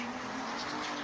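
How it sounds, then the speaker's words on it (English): Tires screech on a fast-moving car as it speeds in, a continuous harsh squeal with steady engine noise, loud and unbroken for about a second. "He turns around at the sound of a screeching car speeding right into him."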